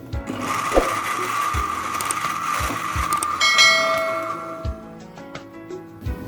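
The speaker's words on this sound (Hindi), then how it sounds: "और अब हम इसे कर रहे हैं ब्लेंड।" A blender whirs steadily for about six seconds, crushing ice with water and peach lemonade, with a constant motor drone and faint rattling chunks.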